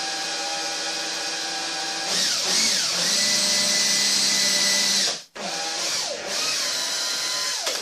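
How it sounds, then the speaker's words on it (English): A power drill whines at high speed in two long runs, the pitch sagging as it bites into a wooden cupboard, with a short pause between. "Make sure your drill is dead straight, dead level."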